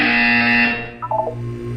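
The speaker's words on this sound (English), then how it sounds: "When you hear the buzzer, look up at the ceiling." An electronic buzzer in the video game Portal 2 drones steadily for most of a second, then cuts to a few short stepped beeps over a low hum.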